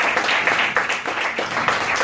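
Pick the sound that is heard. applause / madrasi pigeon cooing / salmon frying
applause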